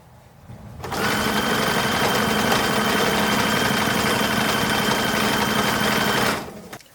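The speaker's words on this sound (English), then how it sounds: "And then I'm also going to sew the shoulder seams." A sewing machine runs in one continuous, even burst of about five seconds, sewing the shoulder seams of a 1940s WWII staff assistance uniform, starting and stopping cleanly with quiet on either side.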